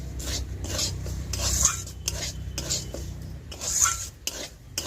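Semolina, two hundred grams, stirred and roasted dry in a pan with a metal spoon, giving steady rasping scrapes and rubbing strokes in an uneven rhythm, close and moderately loud, with no talking.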